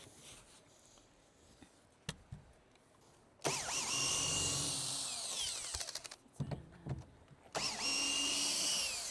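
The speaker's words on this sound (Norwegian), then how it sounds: "Det er ulyder i drillen." A power drill whirs in several loud bursts with whining, uneven rattling noises, used on an old farmhouse roof; between runs there are quiet gaps and short clicks.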